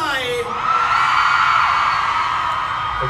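At a press conference for a Bangkok world-tour encore show, a crowd of fans lets out a sustained, loud, high-pitched scream lasting a few seconds.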